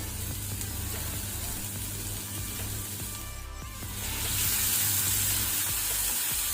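Sliced onions and green chillies for Goan clam curry fry in a pan, a steady, close hissing sizzle that swells a little louder partway through, with no speech.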